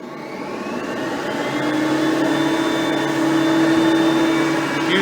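A Hoover Platinum bagged vacuum cleaner runs steadily and loudly with a close, continuous whirring motor drone and a sustained whine that rises slightly as it spins up.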